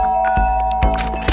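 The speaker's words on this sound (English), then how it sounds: "I guess I should press the doorbell." A doorbell is pressed inside a video game, giving a short chime of bright ringing tones that strike twice over a steady musical backdrop.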